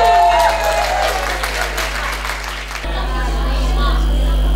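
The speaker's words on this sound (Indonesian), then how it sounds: "Bisa kasih tepuk tangan dulu." Applause from a group in a sermon or class setting, a dense patter of clapping hands that fades and gives way to a steady hum of room noise.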